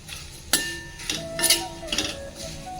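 A utensil stirs flattened rice (atukulu) frying in ghee in a pan, giving several sharp metallic clinks and scrapes spaced about half a second apart against a soft background.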